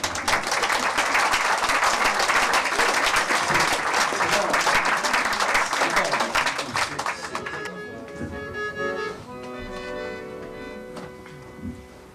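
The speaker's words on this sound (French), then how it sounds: "C'est bien d'autres, on peut l'applaudir." Audience applause at an evening cabaret show, dense and loud for about eight seconds, then thinning into scattered claps as music with sustained tones rises and carries on to the end.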